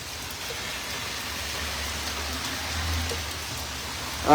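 Steady rain falls on a New York street with a light wind, a continuous even hiss of drops on surfaces and a low rumble beneath, rising slightly louder at the very end.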